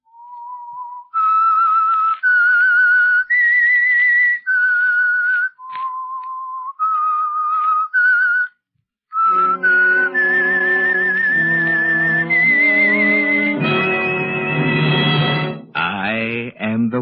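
A lone whistler carries a slow melodic theme of sustained notes, then an orchestra swells in underneath and takes over the tune; the theme of the radio program The Whistler.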